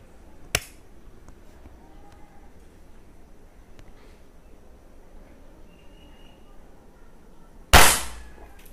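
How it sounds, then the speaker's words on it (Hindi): An NX200 air gun fires two sharp shots at a target, one short crack near the start and a louder, closer one near the end, with quiet room noise between them. "ये पहला शॉट है"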